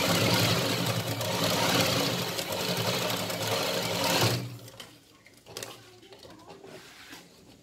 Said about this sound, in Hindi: इस तरह से इसको सिलाई लगा लेंगे।